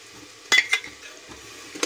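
Mixed spices and ground chillies stirred into a pan for a lotus stem curry: a faint background sizzle broken by a few sharp spoon scrapes and clinks against the pan, close by, with no talking.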